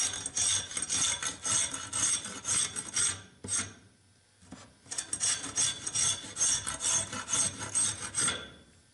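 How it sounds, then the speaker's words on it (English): A glue scraper pops dried glue beads off the edge of a small wooden chest lid in repeated rasping, scraping strokes, close and moderately loud, with a brief pause midway. "I'm just going to use the glue scraper and pop those off"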